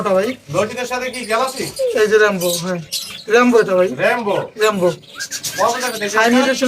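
Cockatiels chirp and squawk at a bird market in Bangladesh, with loud, close voices of people talking throughout and the bird calls mixed in beneath.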